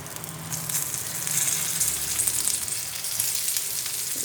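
Halved tomatoes with cumin seeds frying over low heat in a pan, a steady, soft sizzle and crackle with no voices.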